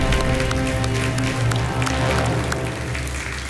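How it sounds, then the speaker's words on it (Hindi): Studio audience applause and clapping greeting a contestant on the Indian quiz show Kaun Banega Crorepati, a steady loud wash of claps over music-like tonal bands lasting the whole stretch. "बहुत बहुत तालियों के साथ उनका स्वागत।"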